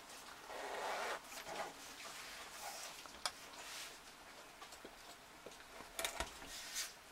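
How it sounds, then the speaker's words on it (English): A zipper on a handmade wrist strap clutch bag is slid open, giving quiet rasping pulls with a few small clicks of the pull tab, close and soft with no speech. "I am going to open the zippers there"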